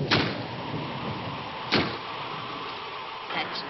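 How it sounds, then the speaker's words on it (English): Wind knocks a door against its frame in a 1959 film: two dull thuds about a second and a half apart, then a softer knock near the end, all over a steady hiss of wind and room noise. "That's just the wind banging a door."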